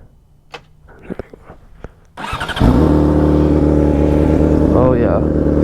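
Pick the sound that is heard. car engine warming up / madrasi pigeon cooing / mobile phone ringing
car engine warming up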